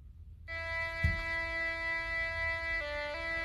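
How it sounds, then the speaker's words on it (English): A sustained synthesizer drone holds a steady pure tone, briefly dropping a step near the end before returning, over a low background rumble. "this one I just kind of used as a little bit of a drone noise"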